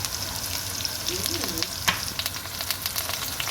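Curry leaves drop into hot oil for a fried potato curry, giving a steady, close sizzle with brief crackling bursts and a stirring scrape.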